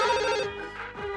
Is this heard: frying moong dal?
no